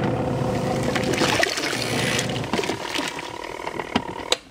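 An Auauna portable washing machine churns clothes with a steady mechanical whir and sloshing water, close and continuous before tapering off with a couple of clicks.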